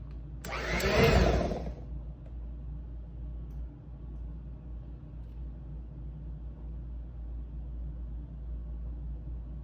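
An electric mixer whirs loudly for roughly a second while mixing ooey gooey snack bite ingredients, then cuts off, leaving only a low steady room hum.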